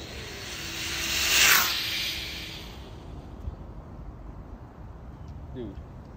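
A brushless-converted WLtoys 124019 RC car at full throttle passes by, a high whine rising as it nears and fading as it moves away within a few seconds, over faint background noise.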